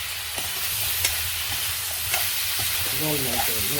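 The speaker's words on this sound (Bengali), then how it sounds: "টকের তরকারিটা ভাজা হয়ে গেছে" Sour vegetable curry frying in a pan, with a loud, constant sizzle and stirring throughout and a brief warbling tonal call rising over it near the end.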